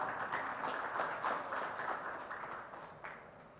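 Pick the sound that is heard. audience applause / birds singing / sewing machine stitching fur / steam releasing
audience applause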